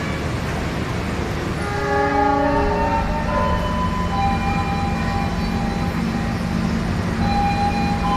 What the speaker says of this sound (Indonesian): Di belakang ini kereta api Sembrani yang datang ini.